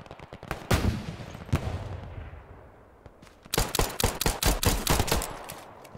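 Gunfire from the World War II shooter game Hell Let Loose: a couple of sharp isolated shots, a short lull, then a rapid burst of loud, closely spaced cracks like automatic or quick repeated fire.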